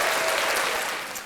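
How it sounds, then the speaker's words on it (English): A short burst of loud, dense group applause, steady clapping from many hands that fades slightly as it ends. "Let's clap it up for him."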